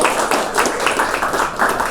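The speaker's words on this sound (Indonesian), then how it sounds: "Tepuk tangan buat kalian." Audience applause at a closing ceremony for a calligraphy training course for Islamic boarding school students, steady dense clapping from a crowd that fills the short moment without pause.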